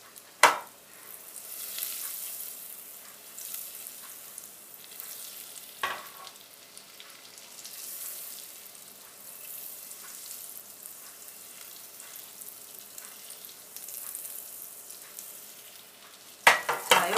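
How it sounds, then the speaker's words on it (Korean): Butter melts over heat in a pan with a steady, soft sizzle and faint crackle throughout, punctuated by a few sharp clinks of a utensil against the pan. "이렇게 해서 버터를 녹였습니다."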